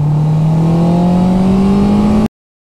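A Honda CB650R, a 650 cc four-cylinder motorcycle of about 95 hp, accelerates hard along a straight, its loud engine note climbing steadily in pitch before cutting off sharply.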